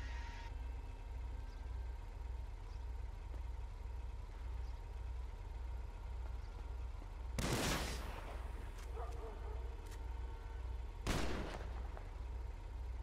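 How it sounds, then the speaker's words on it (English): Two loud, sharp revolver shots ring out a few seconds apart over a steady engine-like hum in the FiveM video game, with no talking. "Can I test a revolver on somebody?"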